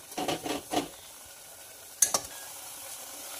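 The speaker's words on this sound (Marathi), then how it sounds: "यामध्ये आपण बघितलेले मसाले घालूया आणि चांगलं परतेपर्यंत हलवत राहूया" Masala spices frying in oil for chicken curry, stirred with a spoon: a few scraping stirs with soft sizzle early on, a quiet pause, then a sharper clink and scrape near the end.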